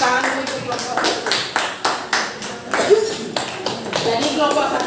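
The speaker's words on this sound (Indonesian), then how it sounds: "silakan berikan tepuk tangan untuk kelompok 1" Classroom applause for a presenting group, a small crowd clapping in uneven bursts that rise and fall over several seconds, with voices talking underneath.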